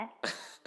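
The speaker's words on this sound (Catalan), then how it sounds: "Terrible. Moments de tos, no?" A single short cough up close, followed by a quick second burst, with nothing else around it.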